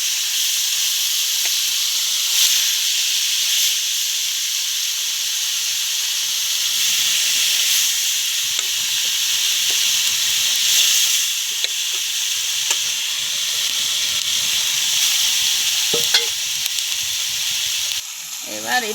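Morola fish frying in hot oil in a wok, a steady bright sizzle and hiss that runs on throughout, with soft stirring and scraping noises near the end.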